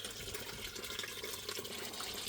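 Water running steadily through gold panning equipment at a gold shack, a continuous close splashing flow with no talk.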